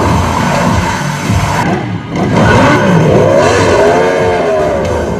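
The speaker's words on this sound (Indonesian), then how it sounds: "John pun berhasil kabur menggunakan motor." A motorcycle engine roars and revs through a getaway in the action film John Wick: Chapter 4 (2023), loud and continuous, its pitch rising and falling within a dense mix of effects and score.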